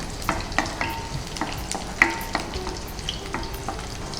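Seven or eight peeled, crushed garlic cloves fry in a pan, giving a soft crackling sizzle broken by repeated scraping stir strokes and occasional clinks, up close and with no voices.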